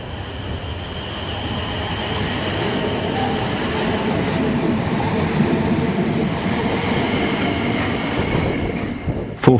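Class 450 electric multiple unit 450-125 runs past on the third-rail Hounslow Loop at Syon Lane, a steady, close rumble of wheels and traction hum lasting several seconds with no talking.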